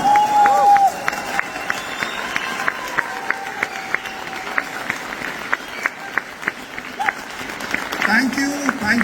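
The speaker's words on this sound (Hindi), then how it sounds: "खड़े होके एक बार जोरदार तालियां एवरीवन।" A standing audience at an award function in Delhi applauds, distinct scattered claps under a voice, which continues talking throughout.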